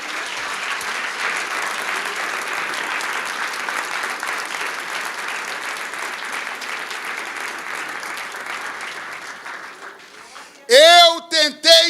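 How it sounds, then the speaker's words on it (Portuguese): Church congregation applauding during a worship sermon, broad sustained clapping across a full room for about ten seconds before it dies down, followed by a loud voice speaking up close. "Vocês podem aplaudir a Jesus."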